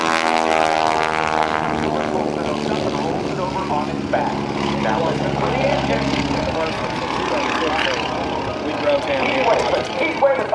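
Aerobatic propeller airplane flying an inverted pass at the 2008 NAS Oceana airshow, a loud sustained engine drone with shifting harmonic pitch throughout, under an announcer's talk.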